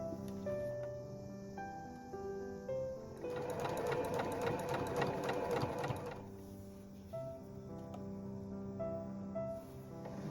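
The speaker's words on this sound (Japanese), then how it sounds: "両端1センチずつ残して折り返してミシン目を重ねながら縫っていくといいかなと思います。" A sewing machine stitching a folded cotton gauze stole, with a steady close whirring run of several seconds in the middle, between quieter stretches of background hum.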